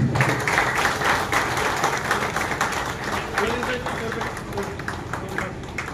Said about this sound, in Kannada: ಚಪ್ಪಾಳೆ ಹೊಡಿಬೇಕು.